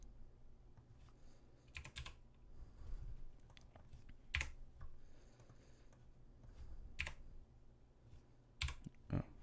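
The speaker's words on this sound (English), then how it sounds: "Oh, clicking numlock." Computer keyboard keys clicked and tapped in an irregular scatter of sharp, close clicks, a few louder single presses standing out over a low room hum.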